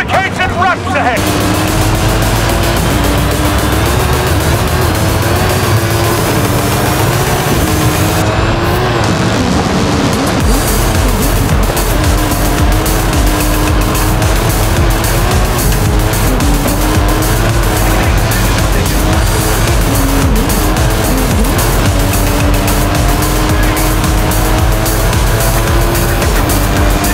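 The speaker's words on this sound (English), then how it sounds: "I've whacked a rally V8 in that thing, so give it the goods!" A rally-spec V8 swapped car races flat out in Forza Horizon 5, with a loud sustained engine roar, shifting revs and tire squeal, while a voice talks over it.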